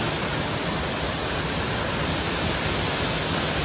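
Balagbag Falls, a waterfall in Real, Quezon, roars as a steady, dense wash of broadband water noise that stays loud and unbroken throughout, with no voices over it.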